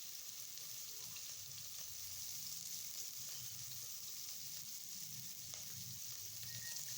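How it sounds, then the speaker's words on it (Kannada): Chopped onions fry in hot oil in a pan for mutton sambar with a steady, crackling sizzle that stays close and even from start to finish, with no talking. "ಎಣ್ಣೆ ಬಿಸಿ ಆದಮೇಲೆ ಕಟ್ ಮಾಡಿರೋ ಅಂಥ ಈರುಳ್ಳಿನ ಹಾಕೊಂಬಿಟ್ಟು ಬಾಡಿಸ್ಕೊಳ್ಳಿ"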